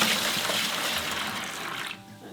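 Cooled corned beef brine poured into a bucket, a steady, close splashing gush of liquid that runs for about two seconds before tapering off, with no voices over it.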